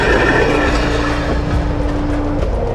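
A TGV train runs past loud and close, a continuous rumbling rail roar with a steady tonal hum and faint clatter throughout.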